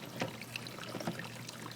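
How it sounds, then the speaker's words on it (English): Water gushing and splashing from the fill spout of a DIY flood and drain hydroponic table as a pump pushes it out, a continuous close trickling babble over a low hum. "you can see it's pumping out the water"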